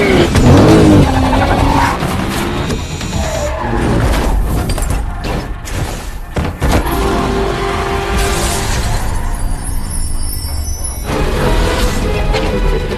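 A bright red Audi RS7 tears away in a car chase, tires squealing and skidding over a loud, sustained engine roar that surges and fades across the scene.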